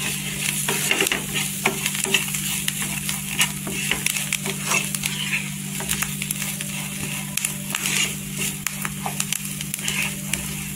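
Green chillies sizzle and crackle in sesame oil on a hot griddle for Kolhapuri thecha, with a steady frying hiss broken by frequent sharp pops and stirring scrapes, close and continuous, no talk.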